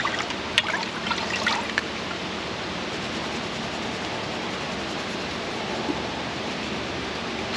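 Engine parts from an LS engine rebuild, fresh from a chemical dip for carbon removal, get rinsed under running water: a steady close hiss and trickle of spray, with a few faint clinks early on and no speech.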